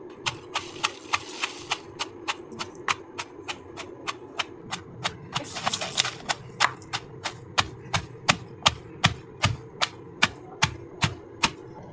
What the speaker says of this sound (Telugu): ఇప్పుడు 1 కేజీ పొండిమిరకాయలు తొక్కి పక్కన పెట్టేస్తున్నాను ఉప్పేసి.